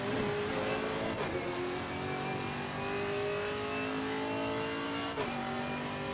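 A GT4 race car in Assetto Corsa Competizione under sustained acceleration, engine pitch climbing steadily, broken by two quick upshifts that drop the tone before it climbs again.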